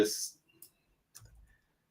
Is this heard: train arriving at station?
no